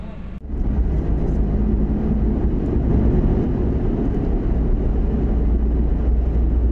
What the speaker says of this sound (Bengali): দিল্লি হাইওয়ে, এবার আমরা বাড়ি ফিরছি